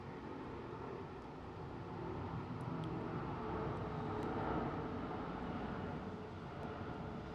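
A British Airways Dreamliner taking off from Heathrow, a faint, distant, steady jet roar that swells slightly midway through.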